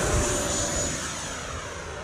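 RC Viper jet airplane on a 6S 6000 battery taking off, a steady loud whooshing whine of the engine, close and continuous for a couple of seconds.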